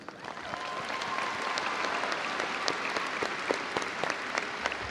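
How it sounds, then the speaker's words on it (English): Sustained applause from a crowd at a university commencement ceremony, steady clapping throughout with a few sharper claps standing out. "Big round of applause for Alexa."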